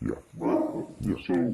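A dog barks a few times indoors in the background of a business call, short, mid-loud yaps interleaved with a man's conversational speech.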